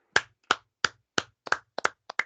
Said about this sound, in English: Clap it up for the A's